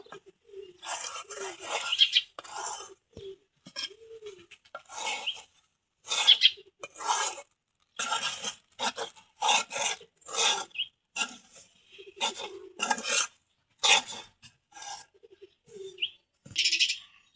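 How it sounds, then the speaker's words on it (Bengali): Wheat flour dough is cooked and worked in a pan, roti-style, with repeated rasping scrapes and stirring strokes in an uneven rhythm, close and fairly quiet, with faint chirping in the background. "এটা দেখেন আমি কিন্তু কি সুন্দর রুটির মতো সিদ্ধ করে নিচ্ছি আটাটা"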